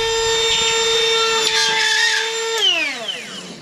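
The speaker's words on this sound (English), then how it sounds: "Well, I'm going to cut this and I'm going to switch over, though, to the quarter inch bit for the window." A router with a quarter-inch cutout bit whines steadily at high pitch while cutting drywall around a window opening, the tone dropping sharply as the motor winds down near the end; loud and close, no talk.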